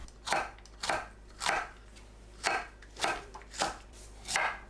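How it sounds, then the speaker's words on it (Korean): A knife slices green onion and cheongyang chili into rounds on a cutting board for doenjang jjigae, about eight crisp, evenly spaced chops landing close and clear over a low steady hum. "파, 청양고추를 둥글게 썰어주세요."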